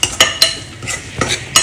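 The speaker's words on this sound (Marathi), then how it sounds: "मसाले चांगले परतून घ्यायचे आहेत आता 2 मिनिटे" Spices being sautéed for prawn rice in a pressure cooker pot, giving sharp scraping stirs at a steady pace over a soft background sizzle, close and fairly loud with no voices.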